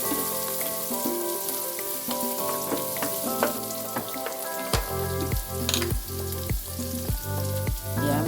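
Garlic sizzles and crackles steadily in a hot pan for a garlic buffalo wings recipe, with a run of rhythmic scraping stirs in the second half and no talking.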